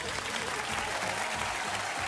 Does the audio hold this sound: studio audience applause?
yes